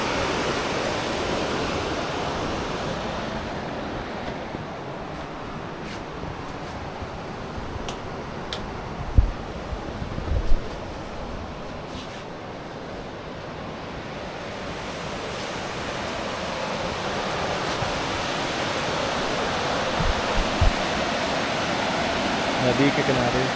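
A riverside stream runs past apple orchards along the Shrikhand Mahadev pilgrimage route in the early morning, a continuous broad rushing wash of water, steady and full, with a few faint knocks and no clear voices.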